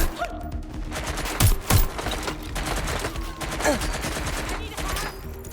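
Heavy gunfire in the Watch Dogs Legion video game, with dense bursts and two loud close shots standing out over a busy, continuous combat mix.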